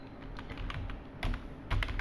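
Keystrokes on a computer keyboard, tapped in short bursts of quiet clicks while a coding solution is being written, with a faint steady hum underneath.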